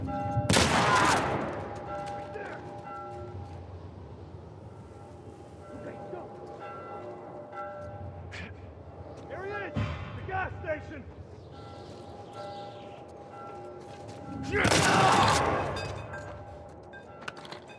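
Shotgun blasts in The Last of Us Part I game, two loud booming shots several seconds apart, the first near the start and the second near the end, with quieter game effects and scattered noises in between.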